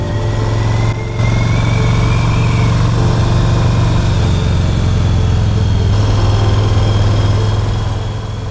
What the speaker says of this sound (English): we're going to go for a ride on this 2006 Yamaha Roadliner